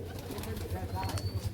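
Rajshahi local Giribaj pigeons give a run of low pulsing coos nearby, steady and repeated, with faint chirps and background bird noise over it.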